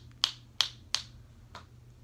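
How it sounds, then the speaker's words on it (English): Finger snapping indoors during a children's craft lesson: three crisp, evenly spaced snaps close by, then a softer fourth, set against a quiet room hum with no talking. "Do we snap our fingers?"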